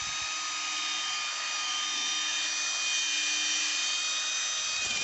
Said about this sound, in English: Notice how I always keep the drill moving